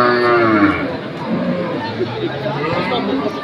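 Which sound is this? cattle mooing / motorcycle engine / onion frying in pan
cattle mooing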